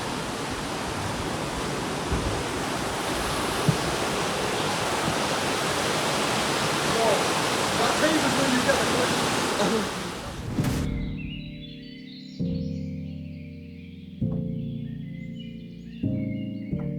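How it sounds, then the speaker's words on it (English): A loud, steady roar of rushing water from a waterfall in the Scottish Highlands fills the first ten seconds, then cuts off abruptly, replaced by quieter tonal sounds. "So we've made it to the waterfall."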